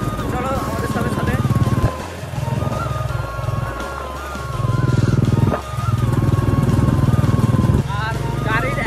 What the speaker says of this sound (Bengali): আর গাড়ির এত আওয়াজ